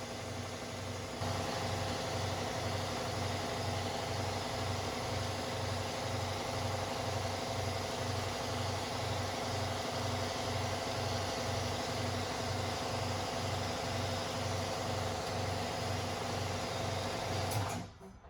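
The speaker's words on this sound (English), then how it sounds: "I'm just turning my compressor on, filling it up with air so we can use the extractor using the pneumatic air" An air compressor in a garage runs steadily for about eighteen seconds while filling with air, a continuous rhythmic thumping hum at even volume that cuts off abruptly at the end, with no voices.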